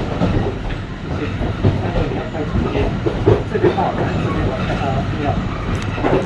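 Alishan Forest Railway train running on its tracks toward Shenmu station, a steady loud rumble with faint clickety-clack and occasional wheel noise throughout, while a voice talks over it.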